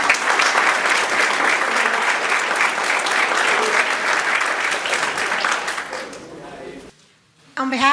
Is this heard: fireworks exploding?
no